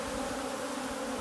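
Honeybees buzz in a steady, dense drone as hive frames are shaken one by one to knock the bees off, a continuous close hum with no voices.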